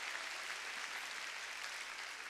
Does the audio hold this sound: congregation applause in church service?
yes